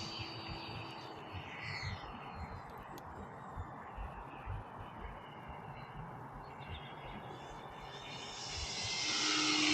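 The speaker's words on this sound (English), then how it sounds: "kick this RC airplane around" An E-Flite Cirrus SR-22T radio-controlled model plane flies in gusty wind, its steady electric motor drone running throughout at moderate distance, with a few faint bird chirps and a rising whoosh of wind near the end.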